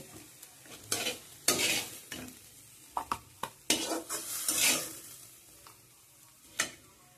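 Quiet sizzling with scattered scraping and clinking as drumstick flowers and potatoes are lightly fried and stirred in a pan, in short irregular bursts.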